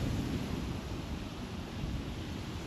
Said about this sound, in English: It's windy today, and there are a lot of choppy waves behind me and the beautiful lake